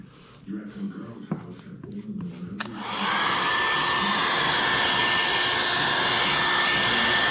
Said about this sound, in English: I'm not blasting the heat gun right on it. I'm going like over top of it.